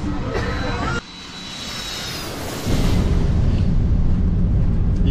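Airplane landing in Japan, with a steady roar of engines and wind noise inside the cabin that drops briefly, then swells into a loud rumble as the wheels touch down and the plane rolls out.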